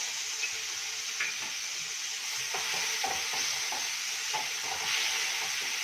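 Garlic, green chili and ginger paste sautéing in a pan for spinach biryani, a steady close sizzle with scattered scraping stir sounds and no talking.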